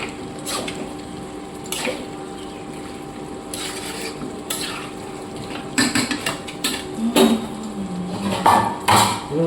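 Mutton being stirred in a cooking pot and then covered with a lid, with scattered metal scrapes and clanks of the spoon against the pot that grow busier toward the end, close and moderately loud over a low background hum.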